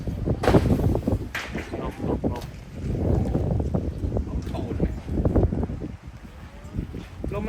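Strong evening wind buffets the microphone outdoors in gusty bursts, with rushing, rumbling low noise rising and falling throughout.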